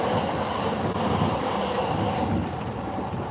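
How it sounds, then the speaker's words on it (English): A Yamanote Line train in Japan rumbles past nearby with a steady, loud roar of wheels on rails. "Oh, that's the Yamanote line coming through."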